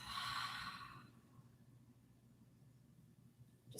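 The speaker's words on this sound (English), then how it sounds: "Exhale, let it out." A long, slow breath goes out through the nose during yoga, a close airy rush that lasts about a second before fading into quiet room tone.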